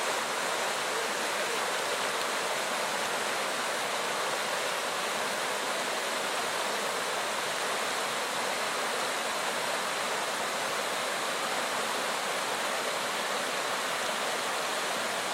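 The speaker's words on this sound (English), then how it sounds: "We're hiking in Little River Canyon just below Desoto Falls" Desoto Falls waterfall in Little River Canyon, a loud, unbroken roar of falling water heard from just downstream, dense and steady with no voices.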